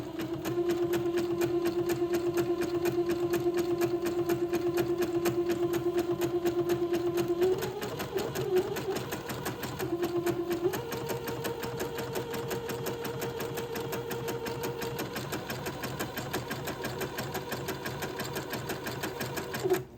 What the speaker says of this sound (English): I'm going to zigzag this lace to the collar piece